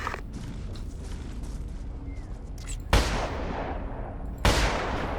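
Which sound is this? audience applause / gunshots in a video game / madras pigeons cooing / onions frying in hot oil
gunshots in a video game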